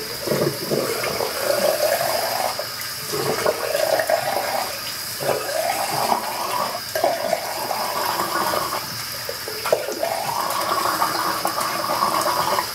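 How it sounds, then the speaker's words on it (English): Tap water runs steadily into a bathroom sink as a man rinses his face after shaving, a continuous close splashing wash with small surges and no talking. "let me wash off here"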